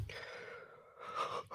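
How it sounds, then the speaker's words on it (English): A man at a podcast microphone gives one long, drawn-out yawn, a breathy inhale rising into an open, voiced exhale, close and fairly quiet. "Oh, I must stop yawning."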